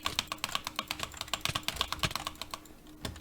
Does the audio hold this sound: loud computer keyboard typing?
yes